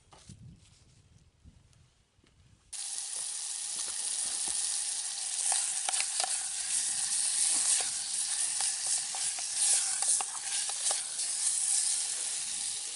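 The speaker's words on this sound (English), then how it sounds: "Generous knob of butter. And we'll get that on the fire." A generous knob of butter hits a pan over a campfire and starts to sizzle, a sudden loud hiss that stays steady and crackling for about ten seconds after a quiet start.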